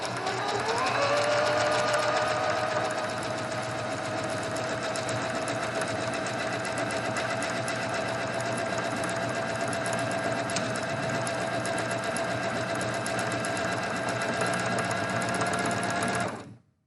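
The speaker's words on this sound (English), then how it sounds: "You don't want your fabric to get stuck or bunch up, so You know, just push gently as you stitch." A sewing machine stitches fabric in a steady, continuous mechanical whir that holds evenly for the whole run before stopping abruptly at the end.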